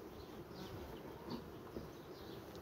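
Honey bees buzz softly around an opened hive, a faint continuous hum with occasional louder passes of individual bees close by.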